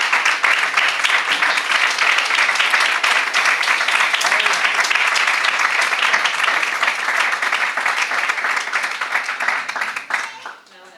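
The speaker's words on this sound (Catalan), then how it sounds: "Un aplaudiment per a ells." Sustained, loud applause from an audience in a town hall at a Benicarló popular-race series closing ceremony, steady dense clapping that lasts about ten seconds before tapering off.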